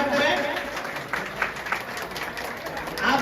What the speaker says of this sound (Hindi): तालियों का ग्रहण करें